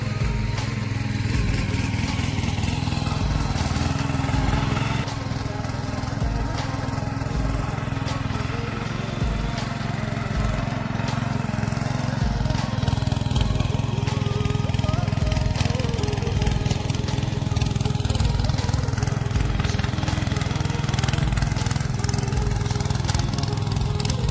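A tractor works a farm field during sowing, close to the bund at the field's edge. Its engine drones steadily and loudly the whole time, with voices heard faintly at moments.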